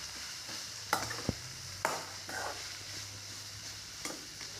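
Onion sautéed with ginger, garlic and green chili in a pan, a soft continuous sizzle with occasional stirring scrapes and light taps, close by and with no talking.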